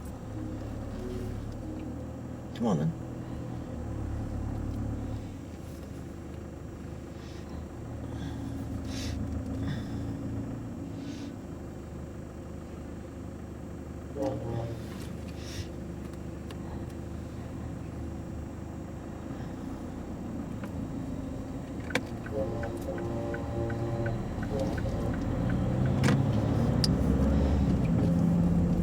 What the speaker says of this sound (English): it helps if I start the car.